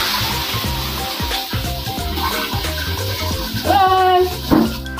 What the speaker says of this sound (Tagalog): So, yan po yung shower niya